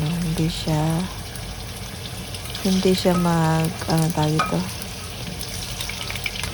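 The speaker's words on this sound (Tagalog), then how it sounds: "Kailangan ko muna siyang iprito" Steady frying sizzle of duck in a pan runs throughout, with a person talking in bursts over it.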